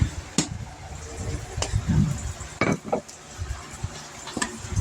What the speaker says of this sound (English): Keep stirring until it gets thick.